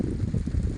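Wind gusts roar low and steady across a farm during an evening rain and lightning storm, a continuous rumbling rush with no clear breaks.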